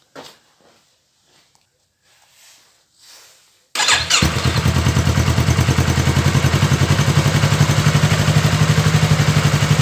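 A 2017 Yamaha R3 motorcycle, just refilled during an oil change, cranks and fires up after a few quiet handling noises, then runs close by with a loud, even, rapidly pulsing idle.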